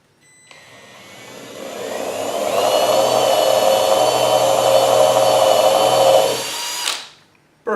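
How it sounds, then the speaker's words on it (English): A power drill whirs steadily for several seconds, close and loud, boring a 9/32-inch hole in wood, then winds down and stops. "Now I'm just going to drill a 9/32 hole"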